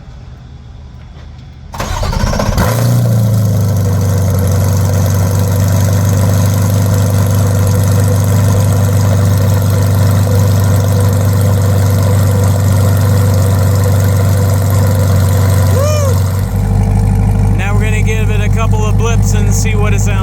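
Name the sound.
Corvette E-Ray cold start idling with new track exhaust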